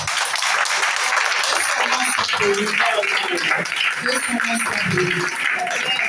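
A church congregation applauding and acclaiming Jesus, steady clapping throughout with cheering voices and shouts mixed in, loud and continuous.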